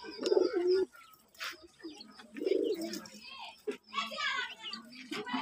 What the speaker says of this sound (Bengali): এটা হচ্ছে বেনারস কবুতর